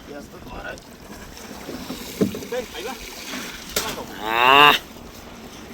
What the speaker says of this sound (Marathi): वारा लय जरा जास्तच वारा आहे.